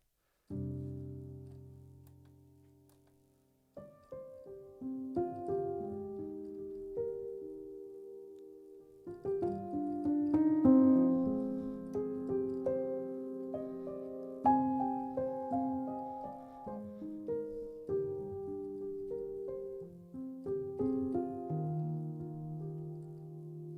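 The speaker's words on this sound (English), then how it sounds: "one of my favorite pianos, the Felt Grand piano, which sounds like this" Spitfire Felt Grand piano from the Olafur Arnalds toolkit playing soft, muted chords and melodic notes, a gentle felted tone with sustained low chords under slow upper phrases, close and unaccompanied.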